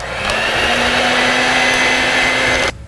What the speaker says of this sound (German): Sahnesteif? Sahnesteif. Oh. Dann heißt das Mixer-Time, oder?